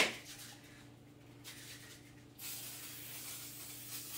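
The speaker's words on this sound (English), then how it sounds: "I'm going to use coconut spray because that's all I have." A short, soft hiss of a coconut oil cooking spray can fires after a quiet pause, then a steady spraying hiss continues to the end.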